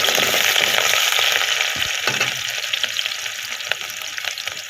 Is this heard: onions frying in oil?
yes